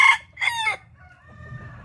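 A Thai white-eared game rooster crows nearby, loud and clear, in two strong bursts of its call that fade into a quieter, drawn-out tail. No voices are heard.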